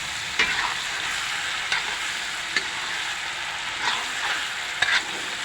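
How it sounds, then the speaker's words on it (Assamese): Local chicken meat frying with 3-4 bhut jolokia chillies in a pot over a wood fire, a steady soft sizzle broken by several sharp scraping stirs of a ladle at irregular intervals, close up and without speech. "ভাজি আছোঁ"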